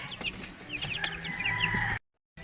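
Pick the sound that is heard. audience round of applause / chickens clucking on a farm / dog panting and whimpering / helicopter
chickens clucking on a farm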